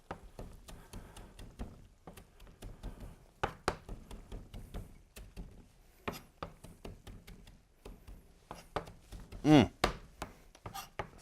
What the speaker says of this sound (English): this portion of the parsley, we're just going to chop it up